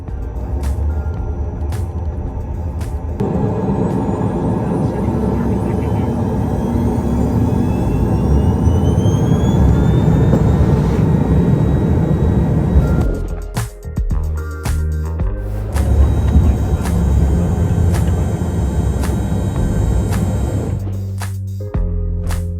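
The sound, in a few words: airplane in flight from Denver to Telluride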